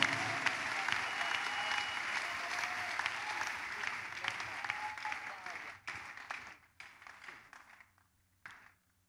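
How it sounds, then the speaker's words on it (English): A church congregation claps loudly and steadily together, a dense wash of applause under which a voice occasionally rises, fading and thinning out toward the end. "Are you clapping for Jesus? Can you make it louder than that,"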